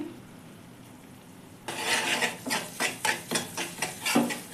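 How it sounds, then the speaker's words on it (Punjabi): A spoon scrapes rhythmically through a semolina barfi mixture with grated coconut powder in a pan, starting abruptly and continuing in steady, close strokes with no talking. "ਚੰਗੀ ਤਰ੍ਹਾਂ ਕਰ ਦੇਵਾਂਗੇ ਮਿਕਸ"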